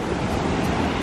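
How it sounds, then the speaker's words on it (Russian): Steady roar of surf with wind noise at Kobuleti, a large wave rushing onto the shore continuously and fairly loud, no clear voices over it. "Ой-ой-ой, волна идет. Такая огромная."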